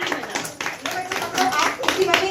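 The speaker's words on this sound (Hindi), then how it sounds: "चलो तालियां बजाओ सब जने।" Children clap their hands in an irregular patter of close, quick claps while voices talk over them.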